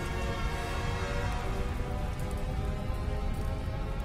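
Indoor rain effect inside a laboratory, a dense continuous patter of water falling on surfaces, steady and close, with no voices over it.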